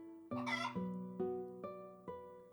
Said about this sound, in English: I hope Daniel didn't try and water the chickens instead of the plants